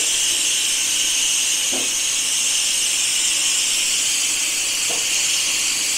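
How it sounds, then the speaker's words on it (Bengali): Steam hisses steadily from a pressure cooker as its whistle is lifted during cooking of an egg chana masala curry, a constant bright rush with two brief faint clicks, no voices. "সিটিটা বার করে নেবো।"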